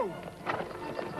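A horse walks with clip-clopping hooves while a brief whinny rises near the start, close and moderately loud, ridden at a horse-show competition, with faint voices mixed in.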